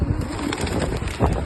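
Pigeons cooing in an outdoor town setting near the cathedral in Stockport, a soft, steady low murmur of birds close by with a slightly louder swell near the end.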